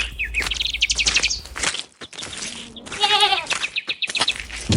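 In a Telugu animated children's story, a goat being led along a forest path bleats amid a busy soundscape, with bird chirps and tweets and repeated wavering calls rising loudly through the middle.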